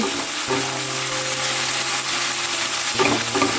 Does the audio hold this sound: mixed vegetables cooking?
yes